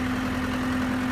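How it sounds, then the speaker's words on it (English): A New Holland 675E four-wheel-drive turbocharged backhoe tractor loader, 90 horsepower, idles with a steady low diesel hum and a strong constant drone, heard up close and unbroken, with no voices. "doing a video demonstration and inspection of a New Holland 675E backhoe tractor loader"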